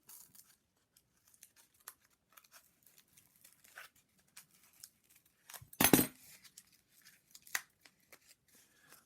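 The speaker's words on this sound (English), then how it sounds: "you can get your scissors in there and you can physically cut that" Scissors cutting through card for a card stand model: sparse, quiet snips and crinkles, with one louder, longer cut near the middle and small clicks scattered through a near-silent background.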